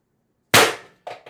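A single sharp report from a Beeman BP50 CO2 air rifle carbine with a 16-inch barrel and expansion mod, loud and close, followed by a short quieter echo or pellet impact.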